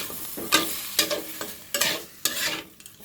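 Chicken curry with chili powder being stirred in a pan, with several rhythmic scraping strokes of the spoon over a low sizzle, close and clear, and no voices.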